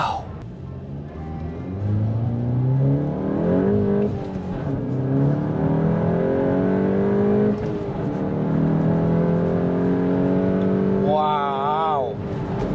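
A modified VW MK8 GTI accelerates hard through the gears, its engine note rising, dropping at each shift and climbing again. The sound is heard from inside the car, and a person briefly exclaims near the end.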